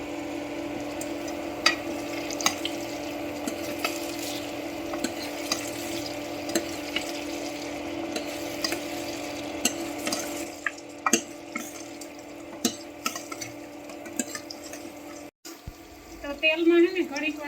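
Stuffed spiny gourds cooking in oil in a pan, with a soft continuous sizzle and repeated scrapes of stirring up close, while someone talks over it for most of the time.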